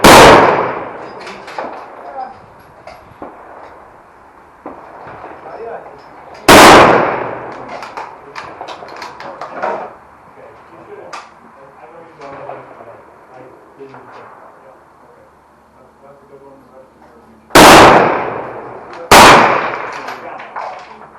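Loud service rifle gunshots at a shooting range, four sharp cracks at irregular intervals, the last two close together, with neighboring shots, clatter and voices in the background between them.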